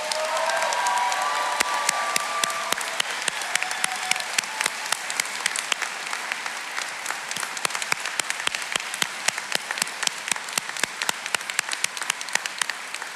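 Audience at the Newport News Shipbuilding Apprentice School 2024 graduation clapping for maritime technology graduates, a dense sustained ovation of many hands with scattered sharp claps, steady throughout and slowly thinning toward the end.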